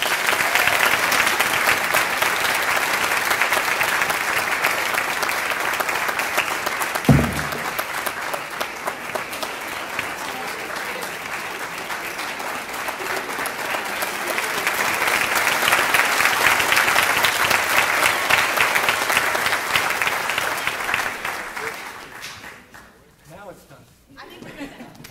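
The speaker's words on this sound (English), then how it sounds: "give them a round of applause" Class day audience at a 2018 high school ceremony breaks into loud, sustained applause that swells again midway, then fades out near the end.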